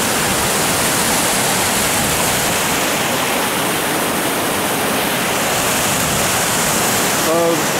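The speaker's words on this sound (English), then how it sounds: "So here's a waterfall." A springtime waterfall in the highlands of southern France roars as a steady, dense rush of falling water, loud and unbroken throughout.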